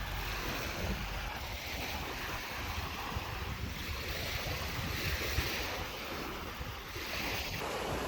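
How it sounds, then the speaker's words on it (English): Waves break on a beach in Ajaccio, Corsica, France, as a steady, fairly faint wash of surf mixed with wind rumble against the microphone, with no speech. "We're on a beach in Corsica, France."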